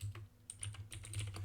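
Computer keyboard typing fills the whole moment, a quick run of close key clicks with a brief pause in the middle and a steady low hum underneath.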